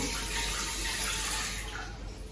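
Water runs steadily from a kitchen tap into a pan for steaming rava idli, a continuous, fairly close splashing rush with no talk.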